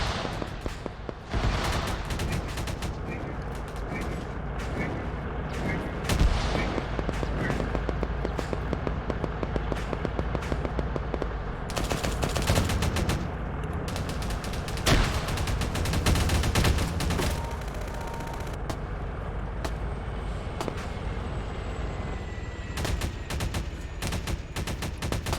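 Dense, continuous gunfire in the video game Half-Life, with rapid overlapping shots and explosive bursts running steadily throughout at high volume.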